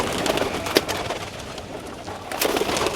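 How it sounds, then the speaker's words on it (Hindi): Soft pigeon coos repeat over a dense, rustling background close by, at a village pigeon roost with nests in Madinah, no voices present. "तो ये रहे कबूतर माशाल्लाह"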